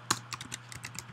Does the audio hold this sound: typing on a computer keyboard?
yes